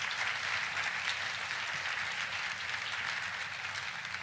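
An audience at a school district's State of the Schools address applauds students who helped welcome guests, a sustained wash of dense clapping at steady volume throughout.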